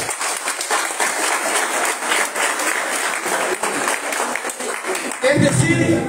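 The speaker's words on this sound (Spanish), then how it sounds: "Démonos un aplauso, por favor." Audience applause at a community meeting for earthquake victims' representatives, a sustained crowd of clapping hands that swells and grows fuller near the end.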